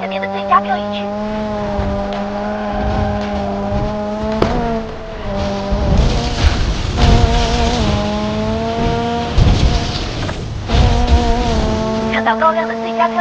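A car drifts in the Need for Speed Mobile racing game, its engine holding a steady tone while tires squeal loudly in repeated bursts, with someone talking over the gameplay.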